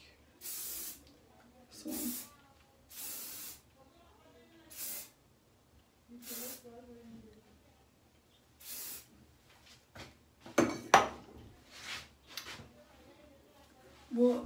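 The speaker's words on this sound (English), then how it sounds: "I'm gonna end this by spraying my hair" Repeated short bursts of aerosol hairspray, hissing on and off in quick pulses, with a brief word spoken between sprays.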